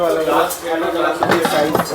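Metal pots, pans, cookers and kadai clinking as they are handled in a utensil shop in Vadodara, with close clanks and rattles running under continuous talk.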